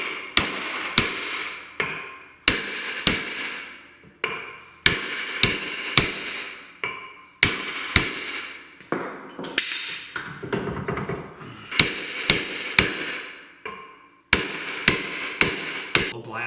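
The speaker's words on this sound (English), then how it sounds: "you gotta pound on the rotor in between the lugs because it's stuck to the hub" Repeated heavy metallic hammer blows on a car brake rotor stuck to its hub ring out in uneven bursts of two to four strikes, loud and close, with brief pauses between groups.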